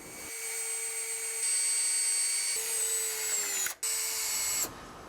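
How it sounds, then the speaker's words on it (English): A power drill drives screws into a garage wall to hang ladder hooks, whining steadily up close, pausing briefly, then spinning again before stopping. "Now I can go back and actually put in the last screws."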